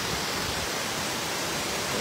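Water pours over the spillway wall of the Araras reservoir in Ceará toward the Acaraú River, a steady, dense roaring rush heard up close with no pauses or voices.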